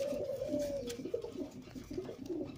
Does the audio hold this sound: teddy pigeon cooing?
yes